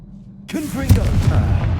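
A Confringo fire spell exploding in Hogwarts Legacy, a sudden loud boom bursting out of near silence and rumbling on, with a voice speaking through it.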